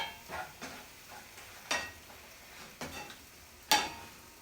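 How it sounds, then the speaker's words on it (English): Ground meat is stirred and broken up in a cast iron skillet, with scraping utensil strokes and clinks at irregular intervals over a faint sizzle, close and fairly quiet, no talking. "I'm going to go on and stir this up a little bit"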